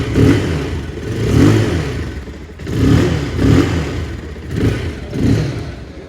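A Bajaj Pulsar 220F motorcycle engine revs repeatedly, rising and falling in roughly six throaty swells with little bass, close by and fairly loud.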